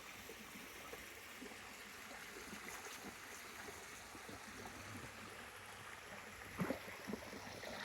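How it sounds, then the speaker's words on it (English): Steady rushing of water jets fills the whole stretch at a country house in Andalusia, Spain, a continuous splashing flow with a couple of brief louder knocks near the end. "It's actually quite relaxing listening to the water jets."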